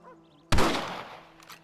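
A single sharp rifle shot in a Red Dead Redemption shooting lesson, loud and close, cracking suddenly out of a quiet tone-filled background and trailing into a long, fading echo.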